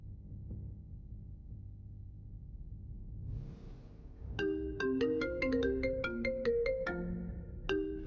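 A quiet low hum gives way to an electronic phone ringtone playing a bright melodic pattern of repeated beeping notes, fairly close and clear.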